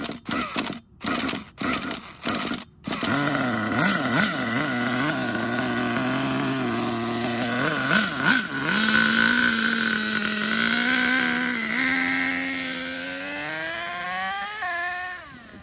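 The nitro engine of an HPI Savage 25 RC monster truck blips in a few sharp bursts, then holds a loud, buzzing whine that rises and falls in pitch as the throttle changes, close by and with no talk.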